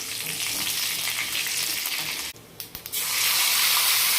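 Cumin and mustard seeds frying in hot oil give a loud, dense, close sizzle that drops away briefly with a few sharp pops and crackles, then surges back strong.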